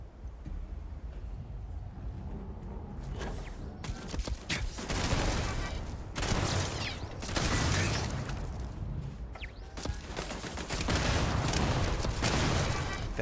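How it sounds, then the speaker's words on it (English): Gunfire in the video game Starfield: repeated bursts of shots and rapid fusillades, loud and close, rising and falling across the stretch with short gaps between volleys and mechanical clatter in the background. "Something's shooting at us."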